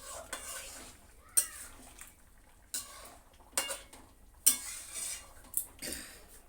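A spoon scrapes and stirs yogurt chicken in a hot pan, with intermittent metallic knocks against the pan and a soft sizzle underneath, fairly quiet and close.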